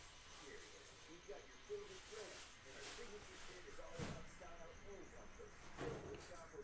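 A cricket chirps indoors in repeated short bursts, moderately loud and close, with occasional thuds and people talking nearby.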